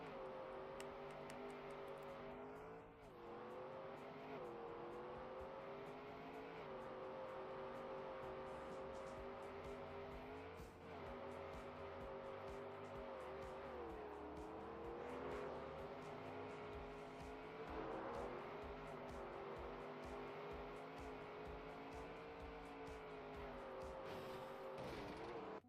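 A virtual car engine in the racing game Trackmania drones continuously, its pitch rising and dipping as the car accelerates, shifts and corners, with occasional tire squeal, steady and loud throughout without speech.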